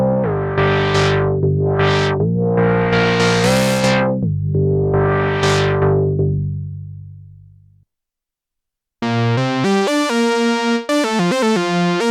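Gritty Novation Summit synthesizer tones recreating vintage Minimoog-style patches, with sweeping filter swells over a sustained bass note, a pause, then a choppy run of bright, rapid synth notes.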